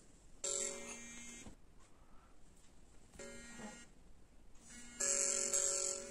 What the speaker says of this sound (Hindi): ये देखिए अभी कॉल का नोटिफिकेशन आना शुरू हो गया।